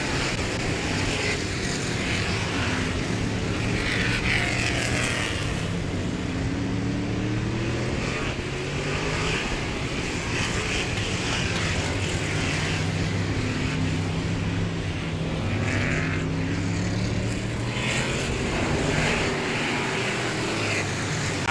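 Outlaw Figure 8 race cars at Showtime Speedway roar together in a loud, continuous drone, their engine pitches rising and falling as the cars cross the figure-eight track.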